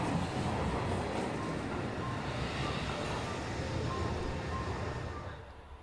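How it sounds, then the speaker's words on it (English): Wakasa Railway train pulling into Tottori Station beside a stabled Super Inaba set, a steady broadband rumble of wheels and running gear that holds evenly, then eases off near the end, with a faint high squeal above. "A stabled Super Inaba set and a wakasarailway service just entering the station."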